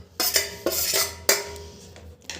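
A spoon scrapes and clinks against a bowl while ground curry leaf paste is stirred into mustard oil with fenugreek, coming as several loud, close strokes in an uneven rhythm with no talking.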